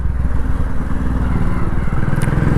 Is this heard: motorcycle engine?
yes